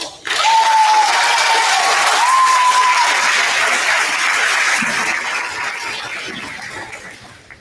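A crowd at a fifth grade award recognition ceremony for Eagle Pride winners at United Local in 2021 gives loud, sustained applause with a brief whistle near the start, slowly tapering off toward the end.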